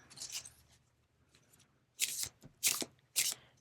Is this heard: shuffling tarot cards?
yes